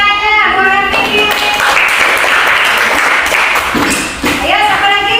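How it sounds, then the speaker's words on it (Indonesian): A classroom of children clapping for a student, a loud burst of applause lasting a few seconds, with children's voices heard before and after. "Nah, tepuk tangannya buat Vicky"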